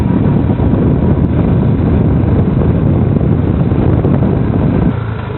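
A motorbike climbs a mountain road from Gangtok toward Nathula in second gear, its engine a loud, steady drone mixed with heavy wind buffeting the microphone, easing slightly near the end.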